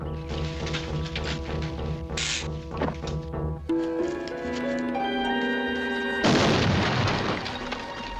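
A grenade explosion in a Wonder Woman TV episode: a sudden, loud broadband burst erupts after a stretch of dramatic orchestral music, with a short rumbling tail as the music continues underneath.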